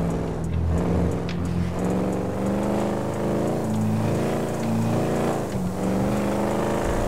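Car engine in GTA roleplay, smoking and damaged, running at a loud steady drone with rhythmic revving surges throughout, no talk over it.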